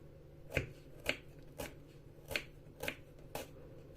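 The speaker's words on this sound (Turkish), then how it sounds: "Soğanı ince ince doğruyoruz." Crisp knife strokes finely chopping onion on a cutting board, about six evenly spaced sharp taps over a low steady background hum.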